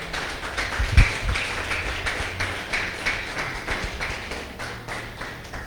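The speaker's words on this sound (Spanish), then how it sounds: "Si le va a dar palmas, déselas fuerte" A church congregation claps along in a steady rhythm, a dense run of hand claps over a low hum with no talking.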